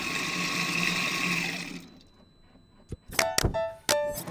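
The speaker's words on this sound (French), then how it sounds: "En premier, le robot va faire chauffer la soupe et vers la fin du programme, il va la mouliner comme ça." Soup maker robot blending moong soup, with a low broadband whir for the first two seconds, then a lull and a few loud clunks and whirring bursts near the end as the blending cycle finishes.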